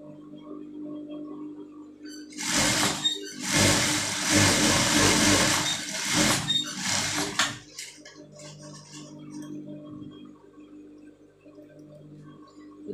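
A sewing machine stitches the band of an abaya in one steady, loud run of about five seconds, then stops, leaving a quiet hum of room noise.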